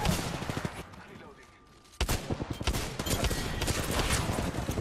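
Rapid bursts of gunfire in the battle royale game Apex Legends, dense overlapping shots in loud clusters with a brief lull before a sharp, sustained volley; faint voices underneath.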